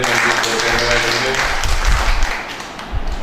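An audience applauds a speaker at a Lions International District 318 D Region 2 cloth bank event. The dense, steady clapping lasts throughout, with voices and low thumps mixed in.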